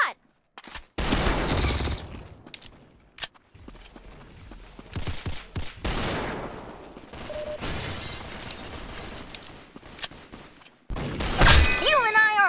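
Rapid bursts of gunfire from the Roblox shooter game Arsenal, loud, dense volleys that come and go across the stretch with brief gaps, ending in a sharp final burst.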